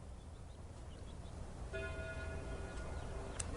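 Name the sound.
church bells ringing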